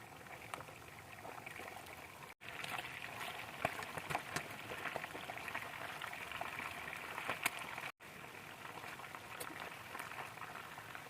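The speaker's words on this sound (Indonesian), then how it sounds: "goreng setengah matang dengan minyak panas" Chicken pieces, cleaned and rubbed with lime juice, fry until half-cooked in hot oil, giving a steady, dense sizzle and crackle that fills the whole stretch, cut by two brief dropouts.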